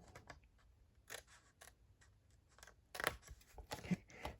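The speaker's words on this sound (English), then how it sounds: "I'm going to angle cut these 2 corners out." Scissors angle-cut the corners off a sheet of 6x6 craft paper, close up, with a scattering of crisp snips and paper rustles that grow denser and louder toward the end; no voices.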